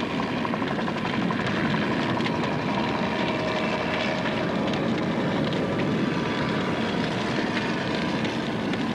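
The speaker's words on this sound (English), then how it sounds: "A helicopter drips burning fuel to fire the less accessible areas." A helicopter's steady, loud rotor roar and engine drone, continuous throughout with no talking, as it drips burning fuel to set a controlled burn on a wildlife refuge beside NASA's space center.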